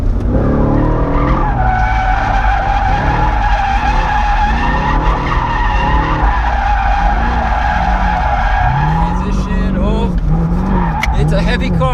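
A heavy Chevrolet Camaro SS drifting on a racetrack in second gear, its tires squealing loudly and continuously over a roaring engine that rises in pitch near the end.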